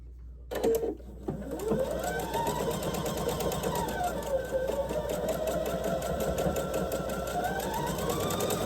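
A sewing machine runs steadily through bulky quilt block seams, a close, continuous mechanical hum with a rhythmic needle clatter after a brief start-up, with no talking over it.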